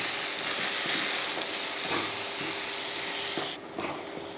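A steady sizzle of garam masala frying in hot oil in a pan, a continuous close crackling hiss with a few soft stirring scrapes.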